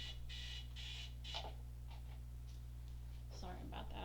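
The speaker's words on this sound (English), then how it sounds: "I forgot to shut off my alarm." An alarm going off during a recorded tarot reading, a run of repeated buzzing beeps in short bursts, faint under a voice speaking, over a steady low hum.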